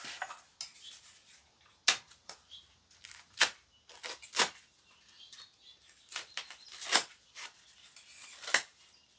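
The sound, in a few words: cutting off ties while assembling a walker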